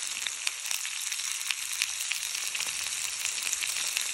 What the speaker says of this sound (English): the sausage has begun to sizzle